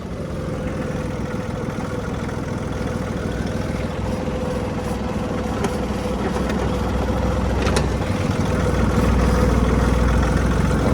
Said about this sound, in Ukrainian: забираємо ногу, тракторець їде повільно та додаємо на четверту передачку